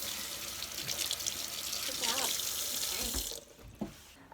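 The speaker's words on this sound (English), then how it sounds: "Rinse off all the bubbles." Tap water runs steadily into a sink as soapy hands are rinsed in a kitchen, a loud continuous splash that cuts off near the end, with a brief spoken remark over it.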